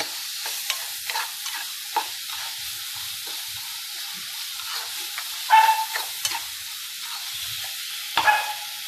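Ingredients for a fish curry sautéing in a pan, a steady frying sizzle broken by repeated spatula scrapes and a couple of louder clanks against the pan, with no voices.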